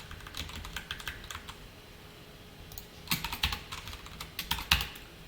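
JavaScript and jQuery code being typed on a computer keyboard, bursts of quick key clicks with short pauses between them, close and moderately faint, no speech.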